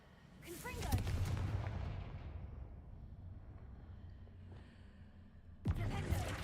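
A Confringo fire spell in Hogwarts Legacy bursts with a sharp, booming blast that rumbles and fades over a few seconds, then a second explosive burst hits near the end.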